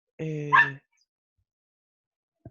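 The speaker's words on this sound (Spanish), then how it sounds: "Tengo un par de perros" A pair of pet dogs giving one short close yip or whine, followed by a very faint brief sound and then near silence.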